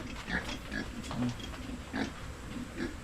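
Pigs on a farm grunt and oink in a steady run of short, overlapping calls at moderate distance, with a faint human voice in the background.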